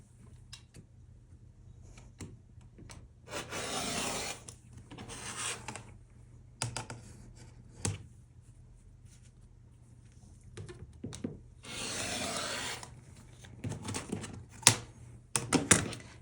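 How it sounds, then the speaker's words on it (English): Quilt fabric is cut along drawn diagonal lines, heard as quiet scattered clicks and taps with a few longer soft rustling stretches, close and faint with no talking. "we will cut directly on the diagonal lines that we drew"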